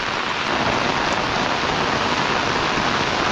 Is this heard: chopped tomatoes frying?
no